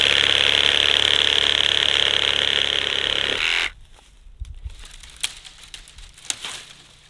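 Tractor engine runs loud and steady in a rural farmyard where manure is being turned, then cuts out abruptly after a few seconds, leaving quiet rustling and light clatter.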